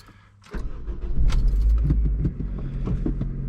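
A 2010 Honda Civic LX-S with a manual gearbox starts up after a brief jingle of keys, its engine settling into a steady close idle that stays loud and continuous with no talking.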